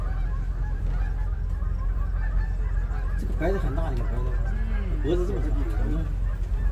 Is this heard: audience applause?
no